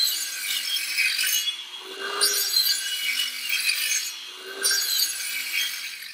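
Hand saw cutting into wooden strongback legs, slow back-and-forth strokes in a steady rasping rhythm, close and fairly loud, with no talking.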